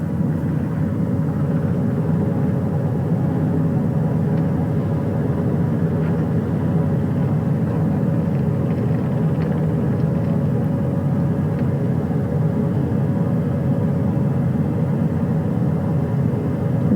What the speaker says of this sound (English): As that third helicopter touches down.